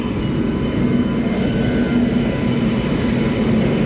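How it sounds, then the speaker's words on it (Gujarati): A train pulls into Virpur station in Gujarat, a loud continuous rumble of wheels and cars with a steady low hum, heard close by without talk. "હલો ટ્રેન આવી ગઈ."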